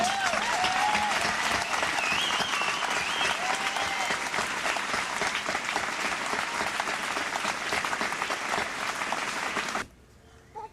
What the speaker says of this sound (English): we should give the parents and others here a round of applause